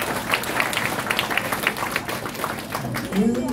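Audience applause for a woman at an Ipswich business event for pro-choice, a steady patter of many hands under crowd murmur and some talking.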